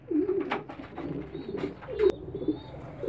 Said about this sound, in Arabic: وده ذكر حمام كبير اهو، طبعا بيقاوم